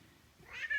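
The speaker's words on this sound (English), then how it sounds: "Playing with my cat who's right here meowing away." A house cat lets out a single rising meow, close and fairly clear, against a quiet indoor background.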